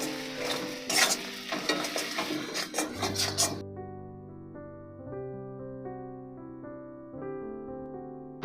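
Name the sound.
mixing spices together in a bowl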